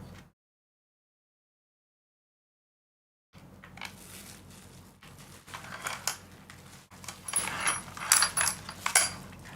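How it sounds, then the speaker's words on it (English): Screws come out of an arcade stick box in a run of close, quiet mechanical clicks and ratcheting turns after an opening stretch of silence, growing busier and louder toward the end. "We are removing a lot of screws today."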